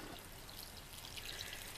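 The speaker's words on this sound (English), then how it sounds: "I'm just going to pull the edge back and water into the bottom of the container." Water poured into the bottom of a seed planting container for spring seedlings, a steady soft trickle and stream that runs continuously and close by, fairly quiet with no talk over it.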